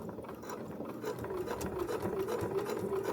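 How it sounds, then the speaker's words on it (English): A sewing machine stitches along a seam on a dog leash, a steady fast mechanical chatter of the needle running continuously at close range with no talking. "we're going to sew right along that line"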